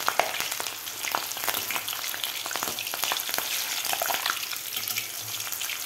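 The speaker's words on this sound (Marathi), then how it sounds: "तळून घ्यायच्या आहेत मिरच्या." Green chillies frying in hot oil for dal vada, a steady dense crackling sizzle with scattered pops and spatters throughout, close and continuous, with no talking.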